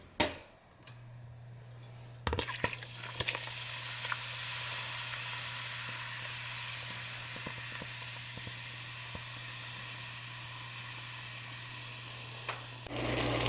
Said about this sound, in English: you see we got a nice big boil going on